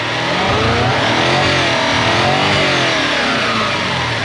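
A Toyota Soarer (Lexus SC400) engine with an injector misfire is revved hard and held at high revs, a loud, close, continuous roar with no talk over it.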